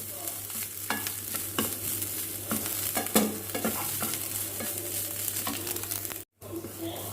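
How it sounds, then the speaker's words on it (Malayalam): Beetroot pachadi with a pinch of turmeric is stirred in a pan, a spoon scraping and tapping in an uneven rhythm over a steady low sizzle, close and moderately loud, with a brief dropout near the end. "എന്നിട്ട് നന്നായിട്ടൊന്നുകൂടെ ഇളക്കി കൊടുക്കാം"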